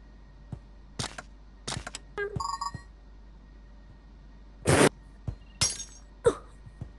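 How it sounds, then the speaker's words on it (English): Glass breaks in the Yeeps video game in several sharp, crisp shattering bursts, each followed by brief tinkling debris, set against a quiet background with faint clicks. "I just broke the glass."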